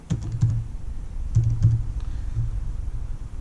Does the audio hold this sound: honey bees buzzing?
no